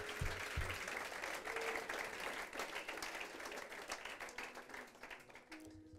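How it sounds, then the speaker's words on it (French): An audience at a French-language church service applauds steadily, a dense sustained wash of clapping with some voices mixed in, fading slightly toward the end. "Est-ce qu'on peut les applaudir encore?"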